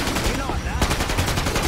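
Assault rifle fire in the video game Killing Floor 2, rapid, dense automatic bursts of loud cracks running continuously and close throughout.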